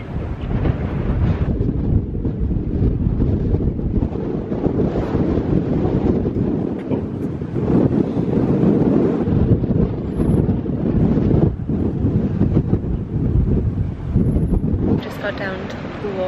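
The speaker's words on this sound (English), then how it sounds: "Very windy again." Strong, steady wind in Cape Town, South Africa roars and buffets the microphone throughout, loud and continuous with brief gusty swells.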